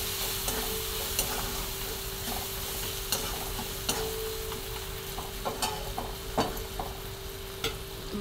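Spice powder and turmeric are stirred in a pan of hot oil, making a steady, even sizzle throughout with light periodic clicks and taps of the spoon against the pan.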